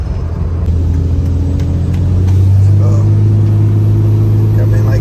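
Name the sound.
Dodge Cummins diesel truck accelerating with tuner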